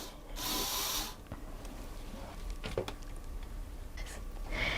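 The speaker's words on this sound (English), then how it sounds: "here you can see the motor and the 2 universal joints and the worm gear" A LEGO Technic Volvo model's small electric motor drives a worm gear and two universal joints, giving quiet mechanical whirring and ratcheting clicks with a few louder bursts, close up and without speech.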